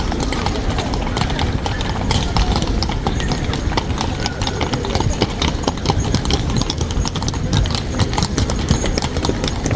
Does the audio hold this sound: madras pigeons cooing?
no